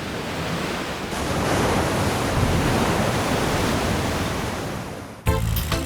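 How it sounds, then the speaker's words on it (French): Atlantic ocean rollers crash against a rocky point, a loud continuous roar of surf and wash swelling and easing, with a brief clatter at the very end. "L'océan supporte mal cet affront et lance ses rouleaux à l'assaut de l'impudente langue rocheuse."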